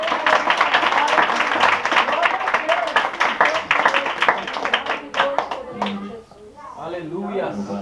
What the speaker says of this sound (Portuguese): Ainda em pé já receba o salve de Deus com as palmas bem alegres para Jesus.